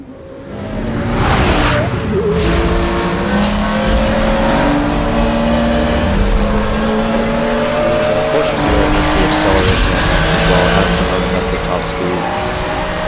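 Porsche Carrera GT in Need for Speed Hot Pursuit, its engine roaring loud and close with rising revs and gear shifts, tires squealing through drifts, under steady talk.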